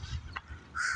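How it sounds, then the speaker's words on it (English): Ducks calling nearby on the Hudson River, a burst of nasal squawks at the end over a low rumble of wind or motion. "The ducks are flying or swimming away."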